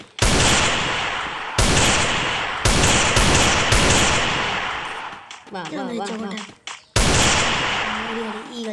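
Rapid AK-47 bursts in a shooting video game come as loud, dense volleys with brief gaps, then a short pause where a voice speaks before the gunfire resumes.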